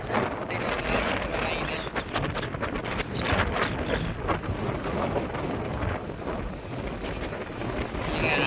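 Steady wind noise buffets the microphone while riding a vehicle at about 30 km/h, a continuous rough rumble that stays loud throughout.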